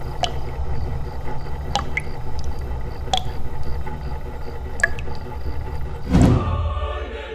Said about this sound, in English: it got that really clean drip sound that you hear right now.